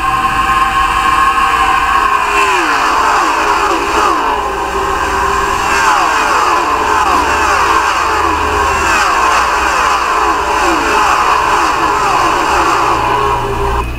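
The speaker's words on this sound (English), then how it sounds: "Let's get this nice flyby here." Several NASCAR stock cars in a racing video game sweep past at the Brickyard 400, a loud, continuous engine roar with rising and falling pitch sweeps as cars fly by, steady throughout without talk.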